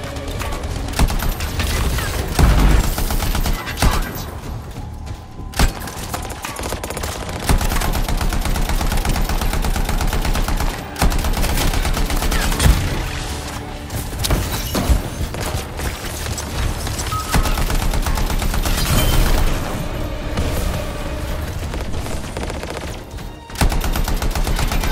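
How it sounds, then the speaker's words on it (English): Sustained heavy gunfire from soldiers in the sci-fi shooter Anthem, dense automatic bursts and booming shots layered almost without pause over a loud, continuous battle soundscape. "Not used to having professional soldiers shooting us."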